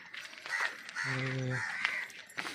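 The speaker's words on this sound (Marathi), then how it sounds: "पक्ष्यांचा आवाज" Several bird calls, cawing like crows, ring out nearby over a murmur of outdoor background in the early morning half-dark, with a low honking call in the middle.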